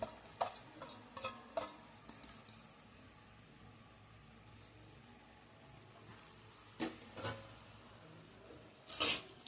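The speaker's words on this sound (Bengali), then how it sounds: "যে ডালটা আমি ধুয়ে রেখেছিলাম মসুর ডালটা সেটা আমি এর মধ্যে দিয়ে দিচ্ছি" Washed masoor (red lentils) going into a pan and being stirred, a quiet backdrop with scattered scraping and knocking bursts, clustering near the start and a louder clatter at the end.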